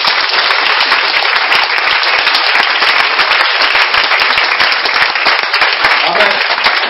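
A church congregation at a French-language worship service applauds and cheers for Jesus, with loud, dense clapping and cheering sustained from start to finish.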